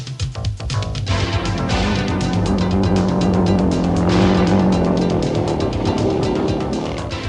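A rally motorcycle engine roars on the 1987 Paris-Dakar, loud, close and continuous, with a rising, revving whine and rough mechanical rattle throughout.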